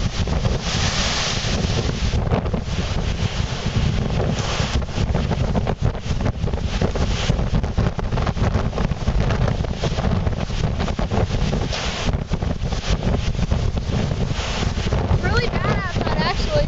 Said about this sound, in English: So we're actually really windy right now outside.